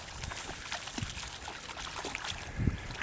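A dog splashes through water at a conservation area, soft irregular sloshes and trickles at moderate distance with a few louder splashes.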